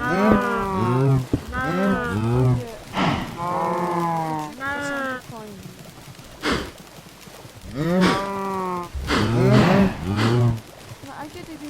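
Cattle on a video-game farm moo again and again, loud drawn-out calls in quick succession with short pauses between them.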